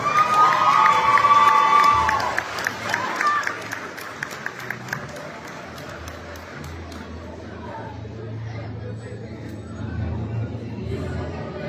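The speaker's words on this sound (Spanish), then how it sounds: "Fuertes aplausos." At a high school graduation ceremony, an audience bursts into loud cheering, shouts and applause that fade after a few seconds into softer clapping and murmuring crowd chatter.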